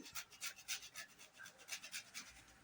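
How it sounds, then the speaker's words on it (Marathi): Nutmeg grated by hand over carrot halwa, a quick run of soft, dry rasping strokes in a steady back-and-forth rhythm, close and fairly quiet with no talking. "आपण याच्यात वेलदोड्याची पूड थोडीशी आणि थोडंसं जायफळ किसून"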